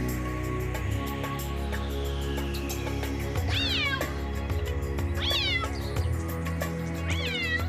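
A Bengal cat lets out three drawn-out meows at regular intervals over steady background music, with no voices.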